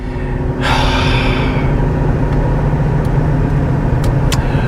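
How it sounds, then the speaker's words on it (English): A used luxury car driving along with a loud, steady rumbling rear wheel bearing noise, continuous road and cabin drone throughout, with a brief breathy burst near the start. "there's a horrendous rear wheel bearing noise"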